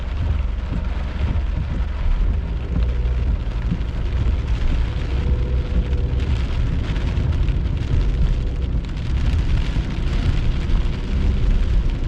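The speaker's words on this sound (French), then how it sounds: "On voit les rideaux de pluie" Heavy rain pours down steadily during a summer thunderstorm, a dense, loud, continuous wash of noise with a deep low rumble beneath it.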